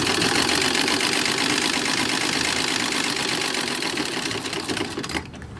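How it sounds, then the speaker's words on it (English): A sewing machine stitches a service patch onto a 1940s Red Cross "Gray Lady" uniform dress, running in a steady, fast mechanical whir close by before stopping at the end. "Sewing on the service patch."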